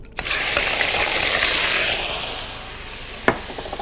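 Shrimp hitting hot oil in a well-heated wok set off a loud, dense sizzle that eases after a couple of seconds, broken by a sharp clank of utensil on metal near the end.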